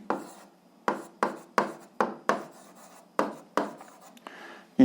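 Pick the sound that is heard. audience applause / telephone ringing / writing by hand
writing by hand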